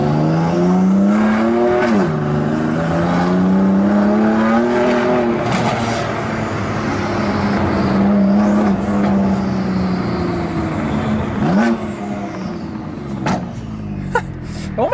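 A BMW M2 Competition, lowered, drives with a loud exhaust, the engine droning and rising through several revving pulls and gear changes, close and continuous with no talk.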